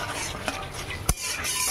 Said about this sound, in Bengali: এবার মশলাটা ভালো করে কষবো।